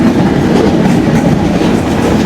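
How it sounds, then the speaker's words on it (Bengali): The Sundarban Express, a Dhaka–Khulna passenger train, rushes past a station platform up close, a loud continuous rumble of wheels and carriages with rhythmic clatter and no voices. "চলে গেল সুন্দরবন এক্সপ্রেস।"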